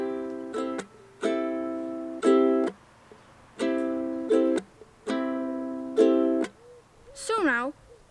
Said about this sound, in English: The strumming pattern for the song is down up tap, down up tap. It sounds like this.